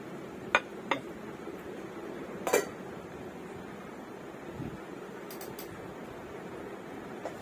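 Plates and dishes are set out for a home dinner of roti and curry, with a few sharp clinks of ceramic, one louder cluster of knocks midway and a couple of light taps later, over a quiet room hum.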